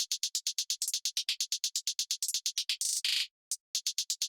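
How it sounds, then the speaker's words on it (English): Hi-hat sample triggered in Logic Pro's EXS24 sampler, a fast even run of crisp bright ticks, then a couple of longer open hits, a brief pause and another quick burst, close and dry. "So this is literally just a hi-hat sample again put into the EXS24."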